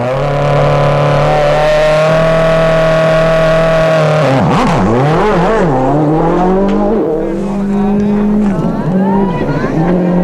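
Mikko Hirvonen's WRC rally car at the start of a stage on day 2 of the 2006 Rally Mexico: a loud, close engine holding a steady tone, then revving hard with sweeping rises and falls in pitch.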